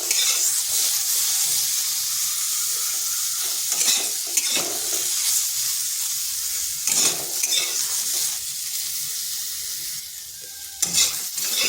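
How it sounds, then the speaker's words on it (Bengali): Brinjal frying in a kadai with salt and turmeric, a constant close sizzle with occasional utensil scrapes and clinks against the pan as it is stirred. "আর একটু ভেজে নিচ্ছি"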